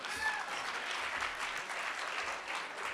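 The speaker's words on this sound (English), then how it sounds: "Give them another round of applause, please." Audience applause at a student life awards ceremony, a steady dense wash of many hands clapping that holds evenly for several seconds without talk.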